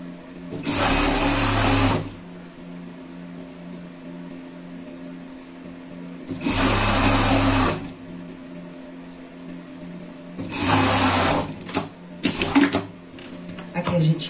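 An overlock serger stitches fabric for a pet bed in three loud, steady bursts of a couple of seconds each, separated by quiet pauses with faint handling noises.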